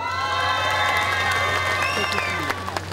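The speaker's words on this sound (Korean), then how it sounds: "우리 고향 선후배님들이 박수를 많이 쳐주시네요" A festival crowd at the opening ceremony of the 15th Okcheon grape and peach festival in Korea applauds and cheers. Steady, dense clapping with bright tonal sounds runs throughout and eases slightly near the end.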